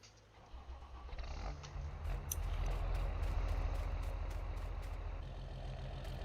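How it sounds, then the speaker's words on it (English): A tractor engine idles in Farming Simulator 19, a steady low rumble that holds throughout after a brief quieter start, with faint high clicks over it and no talking. "I hear something idling"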